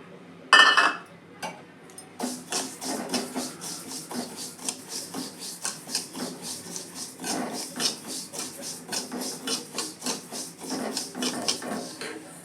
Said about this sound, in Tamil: இப்போது எள்ளு இதில் சேர்த்துக்கலாம்